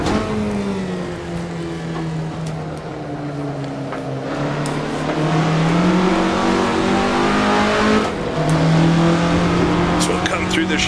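The engine of a 1967 Russell Alexis Mk.14 Formula Ford in the Assetto Corsa racing game drones steadily, its pitch gently falling and rising through gear changes and corners while someone talks over it.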